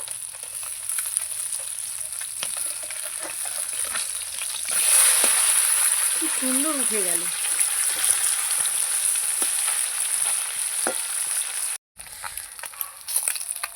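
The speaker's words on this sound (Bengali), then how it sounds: "আমদি মাছটা একবার উল্টে দেব" Amudi fish fry in hot oil in a pan with a continuous loud hiss and crackle, briefly joined by a voice speaking and later by a short break in the sound.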